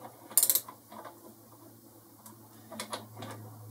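A wrench tightens the nut holding a wheel on a bench grinder, giving a few faint metallic clicks and a short ratcheting creak, quiet and close, over a low steady hum.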